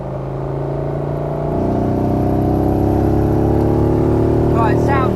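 Morgan 3 Wheeler engine running with a rattly note from pre-ignition, a loud, close, steady drone that swells after the first second and holds, with people talking over it.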